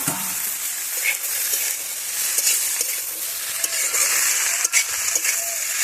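Sand fish hitting hot oil in a home kitchen pan, giving a steady loud sizzle and crackle with occasional stirring clatter throughout, no voices.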